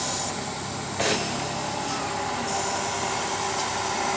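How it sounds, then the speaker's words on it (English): Air parking brakes on a Class A truck release with a sharp burst of hissing air, then a steady hiss that continues under the idle-free cab quiet. "I'm going to release my parking brakes."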